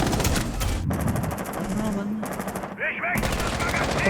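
Rapid automatic gunfire in Rainbow Six Siege, loud close bursts of fire broken by short gaps, with game sounds and faint voices around them.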